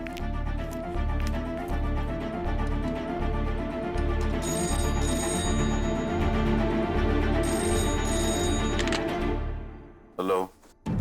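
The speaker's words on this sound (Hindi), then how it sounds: "दयाल भाई को फोन लगाओ।" A telephone rings steadily in repeated pulses, loud and close, before cutting off near the end with a brief clunk.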